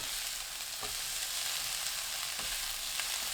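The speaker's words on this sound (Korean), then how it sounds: "양배추 넣고 1분 볶습니다." Cabbage, onion and ham stir-frying over high heat, a steady, fairly quiet sizzle with a couple of soft scraping stirs, no voices.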